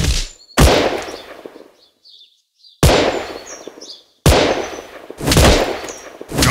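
Gunfire from the mobile shooter game Gun Sprint, several sharp loud blasts in quick bursts separated by brief silences, with small electronic game tones and chirps between the shots.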